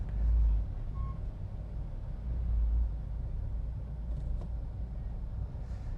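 Trucks and cars travel a congested, slow-moving road with a bad surface, giving a steady low rumble of passing engines with a few swells in loudness.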